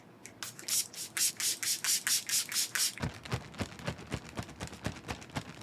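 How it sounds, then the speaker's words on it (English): A rapid series of short aerosol bursts of setting spray onto a face, close and crisp, followed by a quicker run of softer puffs and faint handling noises. "I'm going to spray my face with the SpongeBob setting spray from Lethal."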